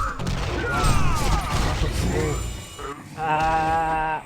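Rapid gunfire bursts and booms in the Champions of Newerth video game, dense and loud throughout with a player's brief exclamation over the game audio.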